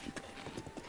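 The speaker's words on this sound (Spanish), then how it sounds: "No es muy rápido tu caballo, ¿sí?" Horse hooves clip-clop at a quick, steady trot in Zelda: Breath of the Wild, several rapid muffled hoofbeats over one second against a soft background.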